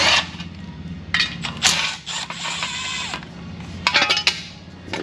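Small 10mm fasteners are loosened from the backing plate of a 2018 Jeep Wrangler, with intermittent ratcheting clicks and short metallic clatters between quieter pauses.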